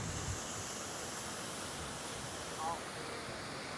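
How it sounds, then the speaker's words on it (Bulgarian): Little Rawana Ella waterfall in Sri Lanka roars as a steady, broad wash of falling water, heard close and continuous with slight wind buffeting on the microphone. "Ето ни на водопада."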